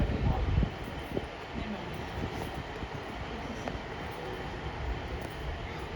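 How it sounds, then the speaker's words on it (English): A Merseyrail Class 507 or 508 unit pulls into Chester station from Liverpool Central, heard as a faint, distant rumble and rolling wagon noise under a wind-buffeted, open platform ambience. "all the way down there is a Merseyrail unit, either a 507 or a 508, terminating in from Liverpool Central"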